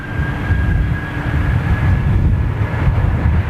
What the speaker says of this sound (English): That 747's fired up.